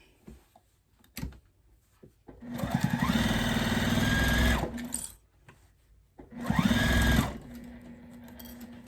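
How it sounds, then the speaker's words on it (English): Sewing machine stitching a quilted table runner with right sides together, doubled fabric: two sustained runs of steady motor whir and rapid needle chatter, the second shorter, separated by brief handling clicks. "Oh, I'm stitching right sides on the back."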